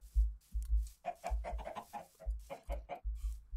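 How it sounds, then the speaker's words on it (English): Minecraft chickens cluck in short, close bursts of clucking calls, with a soft low thumping underneath between the calls. "Chickens."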